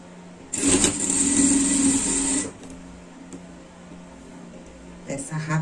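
A sewing machine runs one steady, fast burst of about two seconds while stitching the underarm seam of an Olympic-style tracksuit jacket, then stops. Quieter handling of the fabric follows, with a few faint clicks near the end.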